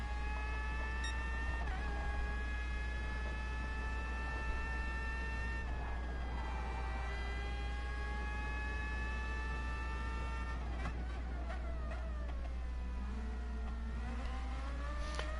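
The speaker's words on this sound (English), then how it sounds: "turn the volume down on the engines because this car is really loud" A loud Viper race car engine in Gran Turismo Sport drones steadily, its pitch climbing and dropping through gear shifts, with no voices over it.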